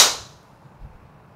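A TaylorMade M4 driver strikes a golf ball off the tee with a single sharp, loud crack that fades quickly, leaving faint outdoor quiet.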